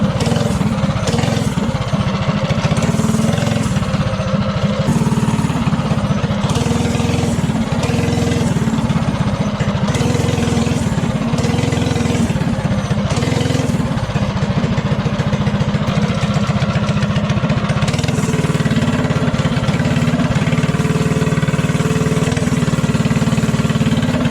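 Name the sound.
propane-powered mini bike engine revving with throttle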